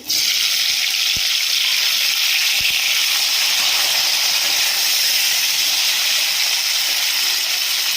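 Cut tomatoes frying in a pan until soft give off a loud, steady hiss of sizzling and steam that runs unbroken from start to finish, with a couple of faint clicks early on.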